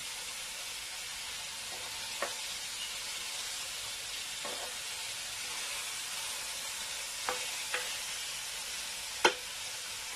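Quiet, steady sizzle of food frying in a pan for smokey rice, with a few faint clicks and pops scattered through the hiss.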